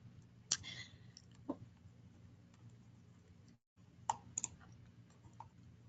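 A few soft mouse clicks select a page in a digital textbook reader. They are sparse and isolated, sitting over a quiet room hum.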